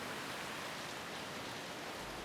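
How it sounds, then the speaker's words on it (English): Rain begins on the Kenyan coast, a dense, even hiss of falling drops that stays constant and moderately soft with no voices. "it suddenly starts raining"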